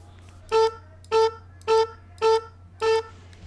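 Five short, evenly spaced honking saxophone blasts from a Minecraft copper mod sound effect, each bright and reedy, over a steady low background hum.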